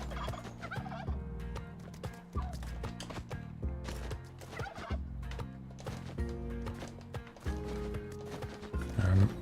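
Turkeys gobbling in the Spelunky 2 video game, their calls mixed into dense, steady game music with recurring tonal notes and a louder burst near the end.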